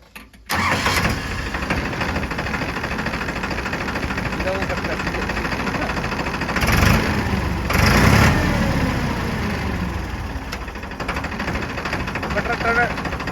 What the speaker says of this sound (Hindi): जो टक टक की आवाज़ आवे ना ट्रैक्टर की, सबसे खूबसूरत आवाज़ लगे